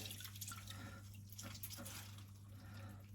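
Water dripping and trickling from soft gelatin squeezed by hand while making a Charlotte cake, faint and close, with a low steady hum underneath.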